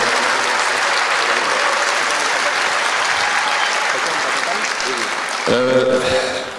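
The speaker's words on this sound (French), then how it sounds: "il faudrait l'applaudir vraiment" Sustained crowd applause at an awards ceremony, dense and steady, with a voice briefly rising over the clapping near the end.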